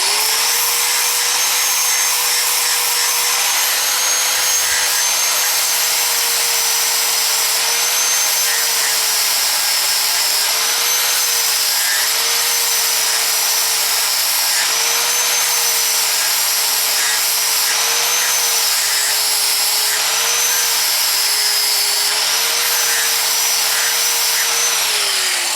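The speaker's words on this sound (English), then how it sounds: "I gotta grind that back a hair" A motorbike engine part being ground down with a power grinder, a loud steady whine with a wavering pitch that runs continuously, close up and alone.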